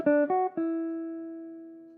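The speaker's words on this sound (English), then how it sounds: "Play the chord, and then in the space that's after the chord you can play a single line." A jazz guitar plays a chord and then a short single-note line, with a couple of quick plucked notes before one note rings out and slowly decays, clean and close with no talking.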